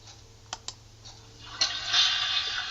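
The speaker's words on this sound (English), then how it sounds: "Starts out with a toilet flushing" A toilet flushing at the opening of a music track, starting with a couple of sharp clicks and then building into a rising, hissing rush of water that stays moderately loud to the end.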